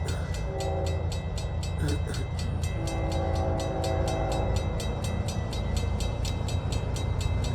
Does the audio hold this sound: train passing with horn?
yes